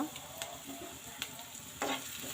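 Soya chunks fry in a pan with curry leaves, giving a quiet, steady sizzle broken by soft scraping clicks as a spoon stirs them.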